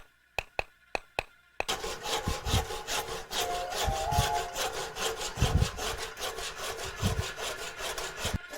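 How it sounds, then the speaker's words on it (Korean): A craftsman in Yeongdong, Chungcheongbuk-do, hand-saws through a bamboo root: a few sharp knocks first, then steady, rasping back-and-forth strokes with low thuds on each pass, close and alone. "장인이 톱으로 대나무 뿌리를 자르고"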